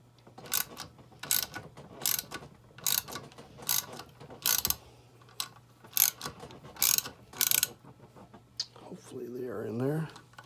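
Valve spring compressor being slowly loosened on a Chevrolet LS 5.3 engine, giving a series of close ratcheting clicks and metallic turns, ending with a brief spoken remark.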